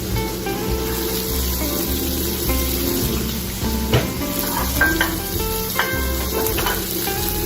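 Asparagus frying in oil in a pan for garlic shrimp, giving a steady, close sizzle with watery crackle and occasional sharper pops and clinks, no voices.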